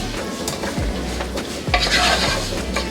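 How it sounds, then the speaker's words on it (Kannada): Chopped capsicum sizzles in a hot pan for lemon rice, a steady frying hiss broken by the scrape and clink of a spatula stirring against the metal. "ಇದನ್ನು ಕೂಡ ಫ್ರೈ ಮಾಡ್ಕೊಳ್ಳೋಣ."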